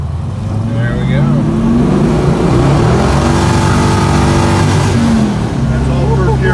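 A 1969 Dodge Super Bee accelerates through traffic, its deep V8 rumbling loud and close inside the cabin and swelling as the revs climb, with occasional talk beneath the engine.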